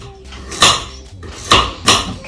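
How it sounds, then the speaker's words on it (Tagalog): Vegetables are chopped for gazpacho, giving three firm, close knocks on a cutting board with short gaps between them and no one speaking. "Okay, I'm going to chop this."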